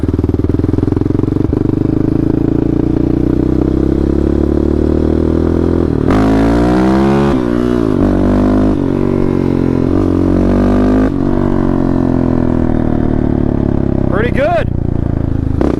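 Yamaha Raptor 700R ATV running on a paved road, its engine droning steadily with several rising and falling revs as it accelerates and shifts, loud and close throughout.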